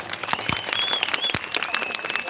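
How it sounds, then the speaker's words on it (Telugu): Audience applause at a pre-Independence Day celebration in Madanapalle, a dense wash of many hands clapping steadily under faint voices. "మీ బంగారు చేతులతో ఎలా చప్పట్లు కొడతారు నాన్ స్టాప్ గా 30 seconds"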